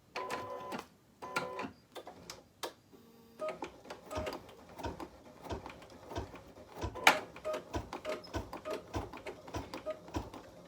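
An embroidery machine at low speed stitches a placement line on stabilizer, giving a quiet, steady run of rapid ticking needle strikes with occasional louder clicks.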